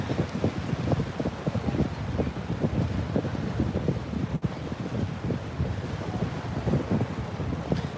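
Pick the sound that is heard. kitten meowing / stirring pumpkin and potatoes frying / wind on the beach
wind on the beach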